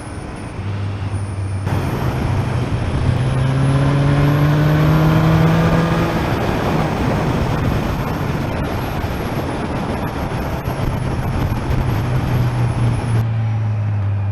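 Suzuki GSX 1400 motorcycle out on the road, its engine note climbing steadily under acceleration then holding a smooth loud drone, with constant wind rush throughout.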